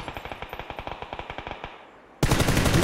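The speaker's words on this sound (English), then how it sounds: "North is shooting at me" Rapid automatic gunfire in a tactical shooter video game, a steady burst of about twenty evenly spaced shots for two seconds, then a pause and a sudden loud, dense blast of noise.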